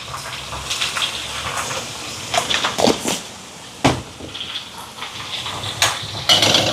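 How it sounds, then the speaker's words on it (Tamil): Water splashes and gushes into a cooking pot holding a chicken curry with ambarella fruit and salt, in uneven pours with a few knocks of the pot or utensil along the way. "கொஞ்சம் தண்ணி விடுவோம்."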